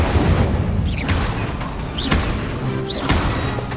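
Repeated fire spells cast in Hogwarts Legacy, a few whooshing bursts with crackling impacts, loud and close against a constant busy background of game combat noise.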